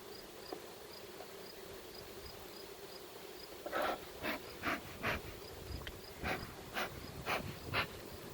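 Honey bees humming from an opened hive during a fall inspection, a steady soft drone with a few sharper buzzing bursts as bees fly close past, no voices.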